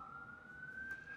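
A police car siren outside, heard faintly at a distance as a thin, steady wail that holds a nearly constant pitch for about a second.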